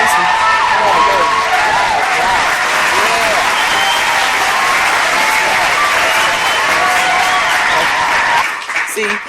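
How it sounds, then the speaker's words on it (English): An audience claps and cheers steadily and loudly for several seconds, a dense wash of applause that thins out at the very end. "Come on, let's cheer some cheering."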